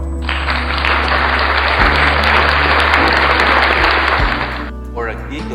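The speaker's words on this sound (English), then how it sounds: "If you're doing a loud and you want like a fake audience applause" Canned audience applause sound effect played from a V8 sound card, a dense wash of clapping that lasts about four seconds, loud and close, under a steady low hum, then stops abruptly.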